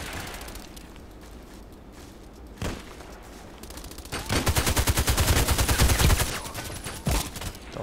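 A vehicle's rear-mounted gun fires in a video game, first as a few isolated shots, then as a long, rapid, evenly spaced automatic burst, loud and close, tapering off into scattered shots.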